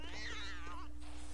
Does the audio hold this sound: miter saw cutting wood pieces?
no